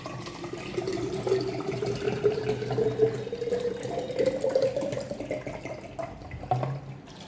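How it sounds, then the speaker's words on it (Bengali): Water pours steadily from a bottle into a jug, a continuous gurgling fill with a slowly rising tone, close and moderately loud with no talking. "এবার জলটাকে দেখো এর মধ্যে ঢেলে নিচ্ছি"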